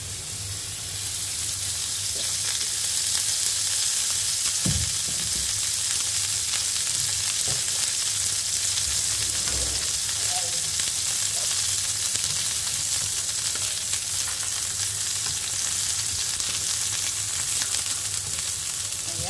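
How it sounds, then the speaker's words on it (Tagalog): Onions frying in a little oil make a loud, constant sizzle close by, with a few thumps and scrapes from the pan and utensil, and no speech over the frying. "dito na rin tayo sa onion. Iprito natin. Bali, kunti lang ang mantika."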